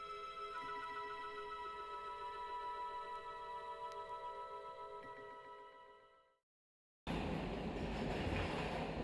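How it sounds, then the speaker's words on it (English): Train sound effect in a Dracula radio drama: a steady rumble with a whistle-like sustained tone that fades to silence, then a loud, noisy burst of rolling rail clatter resumes. "Why do we hear a train?"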